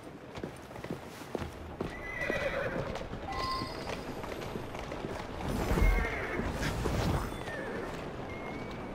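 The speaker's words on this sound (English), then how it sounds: "Who's a good horse? You are." In the Assassin's Creed Syndicate video game, a horse's hooves clip-clop at a gallop on a street, with several loud neighs and whinnies, close and clear.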